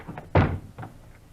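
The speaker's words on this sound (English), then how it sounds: "in a quick movement, they rushed the door" A door is rushed open by FBI agents in a radio drama: a single loud thud-and-bang at close range, with a softer knock or bump following a moment later.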